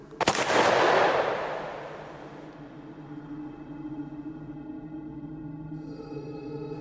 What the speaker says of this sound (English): Followed by a gunshot.